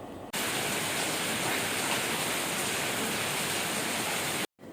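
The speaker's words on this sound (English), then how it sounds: "It's raining here." Steady rain falling outdoors, a dense even hiss that fills the whole clip at constant loudness, with a brief dropout near the end and no voices.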